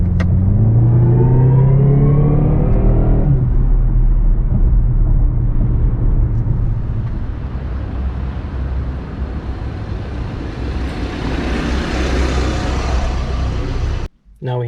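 A 2024 BMW 330e xDrive plug-in hybrid with an 8-speed automatic accelerates hard under electric boost. The engine note climbs steadily, then gives way to a loud, sustained roar of road and wind noise before it cuts off near the end.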